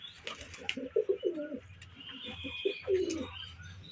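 Pigeon cooing close by, a series of soft throaty coos in short rhythmic bursts with occasional faint chirps from other birds in the background.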